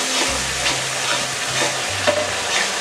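Spice paste frying with about half a cup of water for a Bengali koi fish curry with cauliflower, giving a steady close sizzle broken by a few soft stirring scrapes in the pan.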